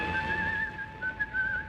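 A man whistles a light, wandering tune, close and clear, in a radio drama set amid weekend-bound crowds at Waterloo Station, with a faint bustle of background murmur beneath.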